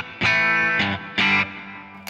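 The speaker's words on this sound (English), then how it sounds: "So I've got a clean compressed tone with a little bit of delay, a little bit of reverb." Clean compressed electric guitar through a Boss ME-90 multi-effects unit with light delay and reverb: three sustained strummed chords ringing with rich harmonics, each trailing off into a soft echo tail, played alone.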